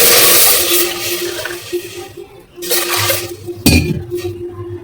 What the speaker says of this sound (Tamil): தண்ணி ஊற்றியாச்சு. நல்லா கொதிக்கட்டும்.